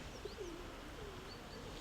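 Racing pigeons coo softly in a low, rounded murmur against a steady background hiss, with faint chirps higher up.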